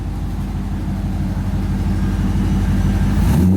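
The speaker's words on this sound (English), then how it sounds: "Got the LS1. This thing's pretty loud." A Chevrolet Corvette's LS1 V8 with a Borla exhaust idles in a shop with a loud, steady, throbbing burble, then rises sharply into a rev right at the end.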